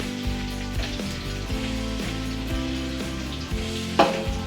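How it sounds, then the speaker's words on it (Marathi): Onion frying in a pan, a steady close sizzle with light stirring knocks and a sharper clatter near the end, no voices. "कांदा वगैरे भाजायला टाकलेला आहे."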